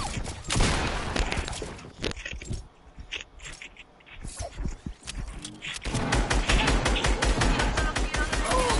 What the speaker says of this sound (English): How did those shots not hit?